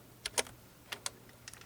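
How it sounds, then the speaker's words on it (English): Short bursts of typing on an old AT keyboard connected through a PS/2 converter, a handful of quick crisp key clicks in two small clusters, close and fairly quiet with no talking. "It's an AT keyboard with a converter, like a little converter to a PS2 going into the thing"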